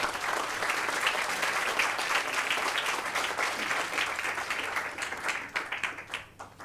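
Audience applause at a book launch, a full room clapping steadily and loudly before thinning into scattered claps at the end.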